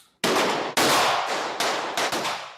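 Gunfire in a series of loud, sharp bursts: a few heavy shots close together, each cracking hard and trailing off briefly before the next, with no voices.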